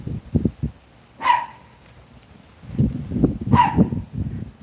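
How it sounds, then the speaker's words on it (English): Americane da Presa dogs bark in short bursts, a quick cluster of barks followed by a pause and then a longer run of loud, close barking and yips. "Oh, the dogs always messing with something."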